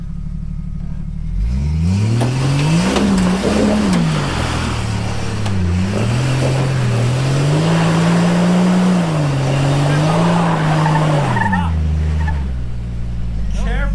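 Stock Chevrolet Suburban climbing an off-road ledge trail: a loud, close engine holds a drone, then rises and falls through several revs over about fourteen seconds, with people talking over it.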